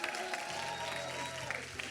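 A crowd at a high school Rocket League championship claps for Biloxi High School, a dense steady patter of applause with voices mixed in throughout.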